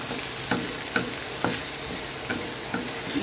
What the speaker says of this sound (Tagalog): Isa-gisa lang po natin.